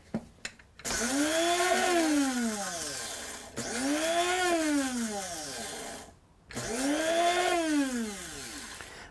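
A kitchen blender purees harissa with dried cilantro, its motor whining up and down in three separate start-stop bursts with short pauses between them.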